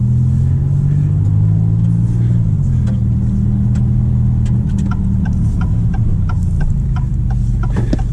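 A Maserati MC20 sports car cruising on the road, its engine a loud steady low drone with a pitch shift partway through, plus faint clicks and rattles from inside the cabin.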